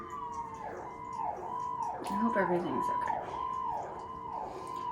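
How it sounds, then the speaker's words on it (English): An ambulance siren passing outside wails, rising and falling repeatedly, steady and moderately loud, with a person speaking briefly over it. "Can you hear that ambulance from here?"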